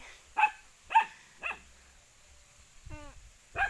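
A dog barks several times in short, spaced yelps nearby, outdoors in a cool breeze near buffalo, with a brief whimpering whine between barks and a faint wind-like hum behind.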